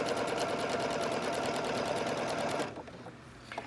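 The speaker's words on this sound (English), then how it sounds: "I started off with the locking stitch. Now I'm going to use the straight stitch." A sewing machine runs a steady straight stitch, fastening a zipper onto a bag or purse, its rapid even whirring filling the first two and a half seconds before stopping, followed by a few faint handling clicks.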